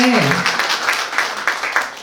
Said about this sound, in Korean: 여러분 박수 해주시고요